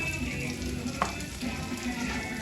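Garlic and onion fry in a pan, a constant dense sizzle close up, with a single brief scrape of a utensil near the middle and no voices.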